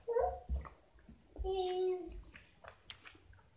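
A nearly five-year-old pet dog lets out a few short yips and whimpers close by, scattered among faint household noise.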